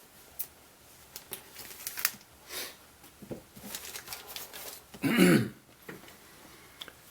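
A plastic bag holding the chrome parts tree of an AMT Ertl 1:25 scale 1966 Ford Fairlane GT/GTA model kit is cut open; scattered crinkles and snips lead up to one louder rustling burst near the end.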